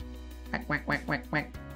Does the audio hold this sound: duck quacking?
yes